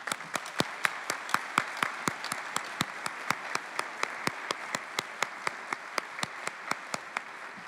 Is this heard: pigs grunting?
no